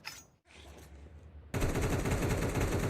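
AK rifle fire in Counter-Strike 2 during an ESL Pro League match, a quiet opening followed by a sudden, dense, loud burst of rapid automatic shots that continues to the end.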